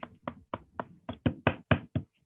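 About nine sharp, separate claps ring out one after another at a steady pace, growing louder toward the end before stopping, like a small group in an audience applauding at a seminar.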